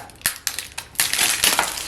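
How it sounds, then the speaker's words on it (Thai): Plastic seal bag being peeled and torn off a square wooden box holding a samurai sword cleaning kit, a series of sharp crinkling rips that merge into a continuous crackle, close and loud. "แกะตัวซีนถุงพลาสติกออกนะครับ"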